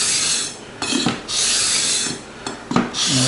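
A sanding block rubs back and forth over super glue filling worn spots on an Avon Marauder guitar fretboard, making close, loud raspy strokes in a steady rhythm with brief knocks between passes.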